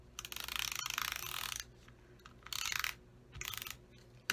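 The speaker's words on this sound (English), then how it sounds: "I'm going to use my dot runner for this piece" A dot runner adhesive tape is rolled onto gold paper for a birthday card, giving three short close bursts of rapid ratcheting clicks separated by brief quiet gaps.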